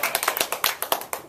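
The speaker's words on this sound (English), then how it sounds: "He likes his roaring round of applause." Rapid clapping at a speech club meeting, welcoming the speech evaluator with sharp, close hand claps in a quick, slightly uneven rhythm of about a dozen strikes.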